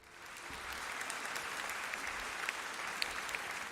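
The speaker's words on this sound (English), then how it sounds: "I would say a warm round of applause for David and Divine." Warm, even applause rises from the audience at a playoff debate on agriculture versus oil in Niger, with a few sharper individual claps standing out, fairly quiet and distant.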